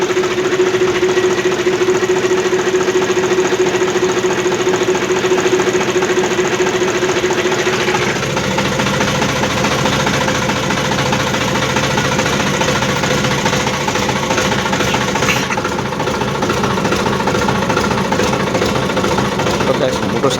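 A tractor's diesel engine runs in a village farmyard as a harrow is being hitched, producing a continuous knocking chug that holds steady and shifts slightly in tone about halfway through.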